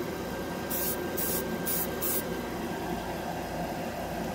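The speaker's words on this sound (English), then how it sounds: "I'm going to spray the other red too, to compare the two." Airbrush spraying ChromaAir red paint onto a plastic scale model, four short hissing bursts in quick succession over a steady background hum, close and fairly loud.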